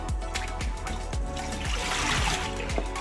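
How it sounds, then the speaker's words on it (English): Salt fish being given a first rinse in water, with a steady trickle and light splashing running throughout, close and fairly loud, with no voices. "take your saltfish, give it a first rinse out."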